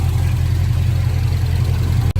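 Square body truck V8 engine with Flowmaster exhaust and Holley Sniper EFI, a steady low burbling idle close by, rumbling evenly throughout with a brief dropout near the end.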